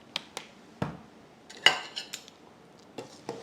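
A pot of Thai-style canned-fish curry sauce for rice noodles is stirred with a metal utensil, giving sharp scattered clinks and scrapes against the pot with quiet gaps between them, close by and with no talk.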